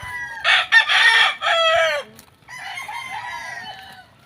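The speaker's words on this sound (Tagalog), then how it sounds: "Farm ng kuya ko, ang daming manok." Roosters crowing loudly and close on a farm with many chickens, one long crow followed by a second after a short pause, with faint clucking between.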